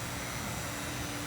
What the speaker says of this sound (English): that blower fan motor, is also making a noise.